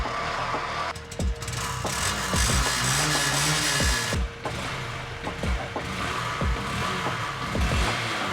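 Honda Grom motorcycle running on old gas after starting, a close, uneven engine chug with several throttle blips and sputters, then settling into a rough idle.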